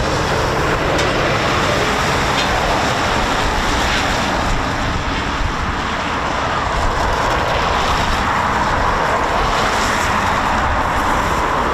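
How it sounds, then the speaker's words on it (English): Eurofighter Typhoon FGR4 jets at RAF Coningsby give off a loud, continuous roar and whine of jet engines, holding steady and close throughout with broad rushing noise. "They've got a couple of Typhoons just about to go."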